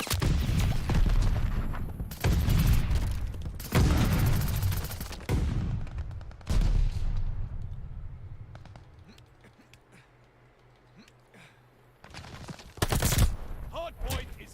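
Gunfire in Call of Duty during a Hardpoint match: heavy bursts of shots and blasts in several loud clusters, separated by quieter stretches, with a final burst near the end.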